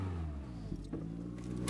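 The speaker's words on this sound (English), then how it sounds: "That's a pretty tough sounding exhaust" A 2014 Scion tC with a manual transmission idling with a deep, throaty exhaust note that briefly rises and falls in pitch as it is revved, heard up close.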